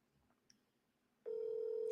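An outgoing phone call: after a faint quiet stretch, a loud steady ringback tone begins suddenly and holds.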